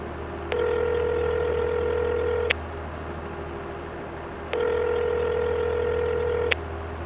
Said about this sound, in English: I suppose we better phone Davey and just check that he wants to come and drive the baler for us